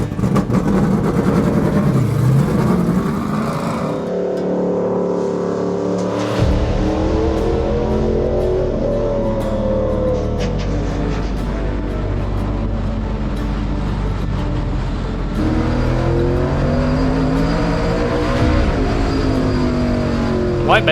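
Race car lapping at a drag racing event, its engine droning and revving steadily with shifting pitch throughout, loud and continuous under French-speaking voices.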